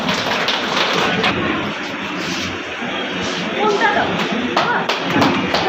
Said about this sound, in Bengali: সকলের হাততালি চাই, জোরে জোরে।